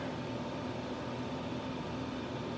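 Raise3D Pro2 3D printers run in the background with a steady, faint, broadband mechanical hum and whir that holds unchanged throughout, with no voices.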